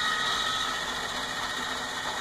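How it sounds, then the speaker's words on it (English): A heavy-duty 20 kilo rotisserie spit motor runs on a Cyprus Grill CG0800A charcoal grill. It gives off a steady, close hum with an even wash of hiss that stays level throughout. "This is a 20 kilo motor, reasonably heavy duty,"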